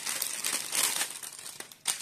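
Thin plastic crinkles and rustles close up as a bag is pulled open, with a few sharper crackles near the end.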